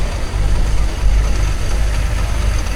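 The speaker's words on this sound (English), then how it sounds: "This is a 6-inch scale agricultural single cylinder traction engine." A 6-inch scale single-cylinder agricultural traction engine runs steadily at a spring steam fair, giving a dense, continuous low rumble with a mild pulsing texture and outdoor background noise.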